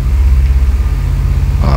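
A light aircraft engine held at a loud, steady drone as a little throttle is fed in, ending with a brief rise in pitch and intensity near the end.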